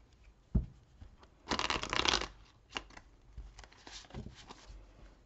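Tarot cards shuffled and drawn by hand in several quick riffling bursts with a louder central flurry, close and clear with no talking.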